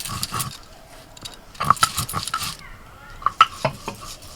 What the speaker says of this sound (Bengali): গোটা ধনে বেটে নিচ্ছি।